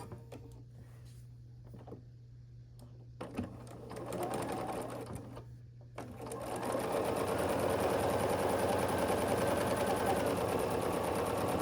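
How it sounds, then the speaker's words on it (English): A sewing machine runs steadily along a diagonal seam through matched quilt squares for a pinwheel star block, starting in short bursts and then humming continuously and close for the final stretch. "And then we're going to sew along this diagonal."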